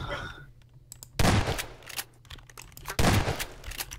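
Gunshots ring out in short loud volleys, two sharp bursts of rapid fire about two seconds apart, with voices talking in between.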